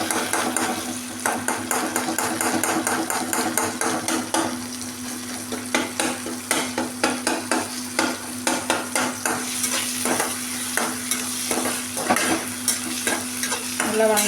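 Tomato, onion, ginger and garlic fry in a pan for a chicken gravy, a steady close sizzle broken by repeated scraping taps of a spatula stirring against the metal, with no voices.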